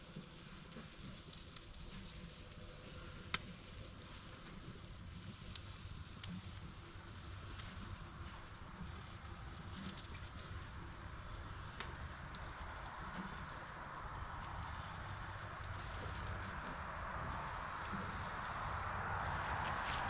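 A charcoal fire burns under a grill, a faint steady crackle and hiss with occasional small pops, slowly growing a little louder, no talking.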